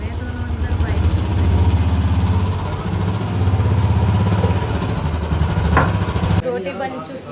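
A Royal Enfield Bullet motorcycle with a faulty clutch rumbles at idle, a close low engine thrum while it is moved indoors, with people talking over it throughout.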